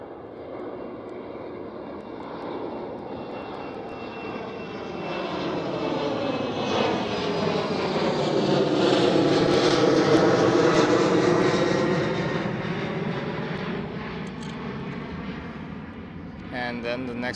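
A KLM Cityhopper plane departs runway 24 at Amsterdam Schiphol, its engine roar building from a distance to a loud, broad peak as it passes, then slowly fading, with a voice talking over it.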